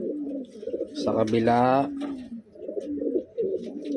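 A pigeon gives a rising, bubbling coo at close range, about a second long, over someone talking in the foreground.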